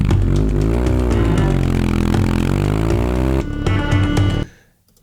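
A motorbike engine starts and runs loud and close, a rising, revving drone for several seconds that cuts off abruptly into near silence.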